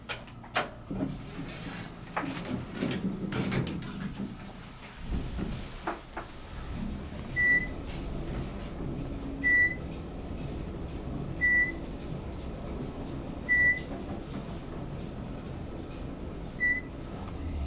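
An Otis vanity traction elevator at The Sentinel Hotel in Portland, Oregon, starts with a few clunks and bumps, then settles into a quiet running hum with soft electronic beeps repeating about every two seconds.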